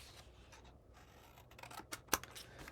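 Scissors cutting paper along score lines for a mini album, a soft snipping and scraping close by that ends with one sharper snip.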